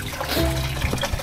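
Water poured over a small child during a bath, a short splashing gush of liquid close by with trickling and dribbling as it runs off.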